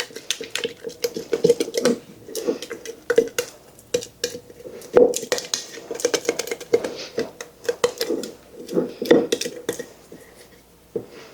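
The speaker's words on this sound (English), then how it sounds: "Give that a good stir" Sourdough starter being stirred in a jar, a busy run of rapid clinks and scrapes as the utensil knocks against the glass, loud and close, continuing in uneven bursts with no voices.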